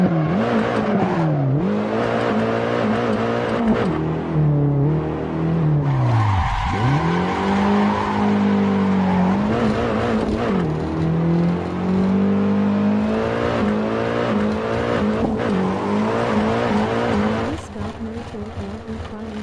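A car in Assetto Corsa is clutch-kicked into a drift, its engine revving and dipping while tires squeal steadily through the slide, loud and close, with a voice talking over it now and then.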